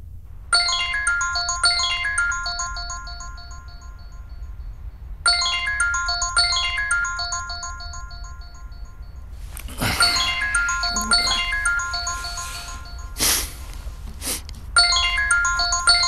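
A mobile phone rings with an incoming call, a bright repeating melodic ringtone sounding in loud bursts separated by short pauses, with some clattering noise in the middle.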